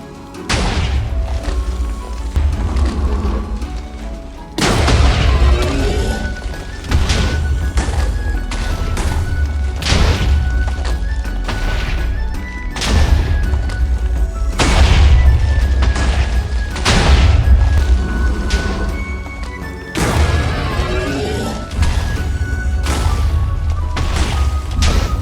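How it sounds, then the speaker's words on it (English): Abyssal orbs from the Orbital Void spell in Minecraft pulse around the player as loud, repeated booming thuds and crashes, layered and continuous with steady impacts throughout. "Orbital Void launches abyssal orb projectiles in a circular pattern around the player, damaging any nearby enemies"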